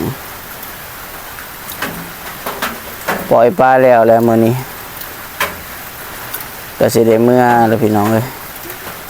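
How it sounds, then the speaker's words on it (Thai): Steady rain patters across a surface throughout, with a voice speaking in bursts over the hiss of falling drops. "ฝนยังตกอยู่"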